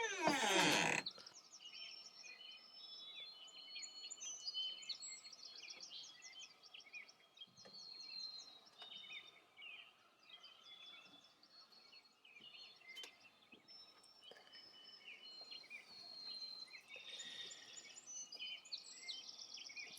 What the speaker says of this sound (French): Les petits oiseaux chantent, les petits oiseaux.